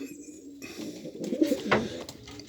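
Racing pigeons coo softly inside a loft, low throaty calls rising and falling over faint background rustling, fairly quiet with no voices.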